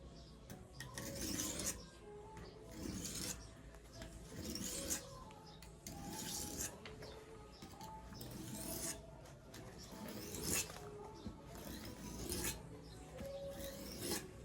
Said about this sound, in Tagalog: I apply a gentle pressure while sliding the blade forward.